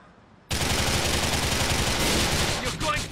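Sustained automatic gunfire in Grand Theft Auto IV during a shootout mission erupts suddenly and keeps up as a dense, loud barrage of rapid shots.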